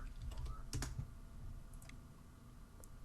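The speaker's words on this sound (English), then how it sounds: "I could just type it in the search bar." Someone types on a computer keyboard into a search bar, making a quick burst of close, soft key clicks followed by a few sparse taps, quiet and with no talking.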